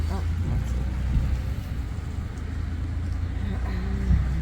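A car rolls past outside Elvis's birthplace on a rainy day, a steady low engine and tyre rumble with wet road hiss, fairly close and continuous, while voices talk faintly underneath.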